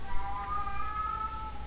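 In the Japanese horror game Tsugunohi: Nekonohi Kaikitan, a long, wavering cat meow carries for over a second, moderately loud against a low, steady ambient rumble.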